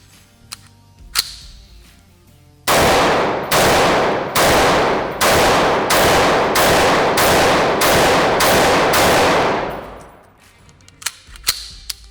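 An IWI Carmel 5.56 semi-automatic rifle fired rapidly at a range, about ten loud, sharp shots in an even, quick rhythm, each ringing out briefly before the next, with a few fainter clicks before and after.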